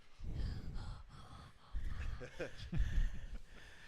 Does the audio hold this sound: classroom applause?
no